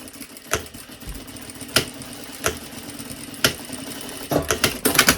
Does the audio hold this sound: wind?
no